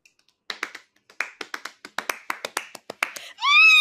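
A pair of hands claps in an uneven galloping rhythm to mimic horses' hooves, about twenty crisp, close claps, followed by a sudden high whinny-like sound at the end.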